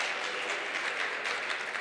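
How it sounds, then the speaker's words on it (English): Audience applause for the MEC at a World Food Day event, a dense, even hiss of many hands clapping at a distance, steady and fairly faint throughout. "Can we please give Mema Miki a huge round of applause?"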